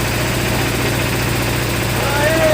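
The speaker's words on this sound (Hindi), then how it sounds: "लगता है यहाँ भी इंजन है" A car engine runs at a steady idle, loud and close, with a constant low hum and vibration and no changes in pace.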